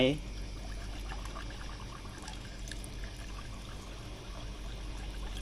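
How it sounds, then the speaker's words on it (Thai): Water is poured steadily into a household water pump to prime it, a pump that was not drawing water, giving a continuous close splashing pour throughout. "เราก็กรอกน้ำไปเหมือนเดิมนะจนกระทั่งเต็ม"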